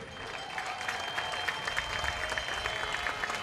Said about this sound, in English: Mike Chambers with a well-deserved round of applause, the Manager of the Year